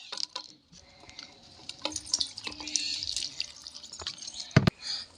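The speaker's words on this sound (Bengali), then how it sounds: "প্রথমে আমি একটা গামলা নিয়ে ধুয়ে দিয়ে দিচ্ছি।" A bowl is washed under a running tap, with water splashing and dripping irregularly, soft squishy rubbing sounds, and occasional louder clunks of the bowl against the sink.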